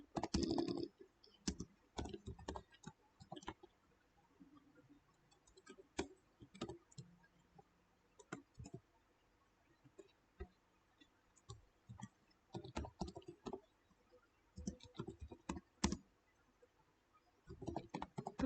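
Someone types on a computer keyboard while entering formulas, with irregular bursts of soft, close clicks and brief pauses between runs of keystrokes, fairly quiet and with no voices.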